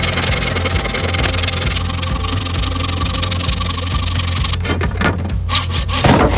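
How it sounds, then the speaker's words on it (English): Wood is sawn for cabinet legs inside a minivan camper build, a steady loud rasping cut running close throughout, ending in a few separate scraping strokes and knocks. "First, I measure and cut the legs to fit."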